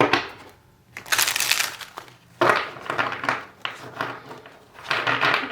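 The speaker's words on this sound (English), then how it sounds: "one more good shuffle." Tarot cards being shuffled by hand in several bursts of dry, crisp riffling and slapping, close and fairly loud, with short pauses between shuffles and no talking.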